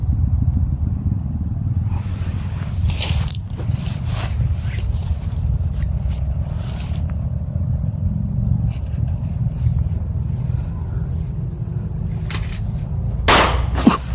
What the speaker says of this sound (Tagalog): May putok lods.